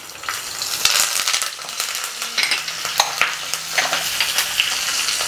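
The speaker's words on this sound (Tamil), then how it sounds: "ஒரே ஒரு பச்சை மிளகா போடுறேன், ஒரு காஞ்ச மிளகா, அப்புறமா கருவேப்பிலை." A green chili, a dried chili and curry leaves sizzle in hot ghee, a loud, crackling fry with scattered pops and a few metallic clinks of a spoon against the pan.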